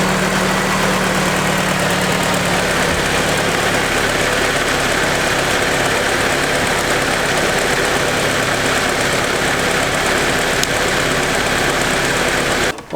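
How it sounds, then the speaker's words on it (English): A turbocharged Mazda Miata engine turns over and settles into a loud, steady idle with a rough, even rumble and vibration, close up and continuous for the whole stretch, with no voices. "I'm gonna just fire it up real quick, make sure there ain't no leaks."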